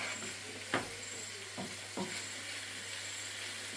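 Large mackerel frying in a pan with spice masala, a steady soft sizzle and hiss throughout with a few faint clicks and taps of a utensil against the pan.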